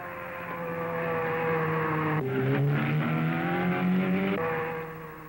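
Sports cars racing up the asphalt road of the Chimney Rock hill climb around 1960, engines droning steadily and then rising in pitch as a car accelerates through the middle before the sound eases away, with no talk.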